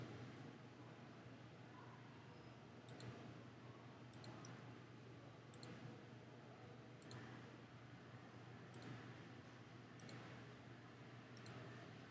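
A computer mouse clicks seven times at a slow, even pace while the shift key is held, selecting shapes while designing a sublimated custom shirt; each click is short and sharp over a steady low hum.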